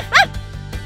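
A small cartoon dog gives a single high, quick yip in a pet hair salon, followed by a faint low murmur of background sound.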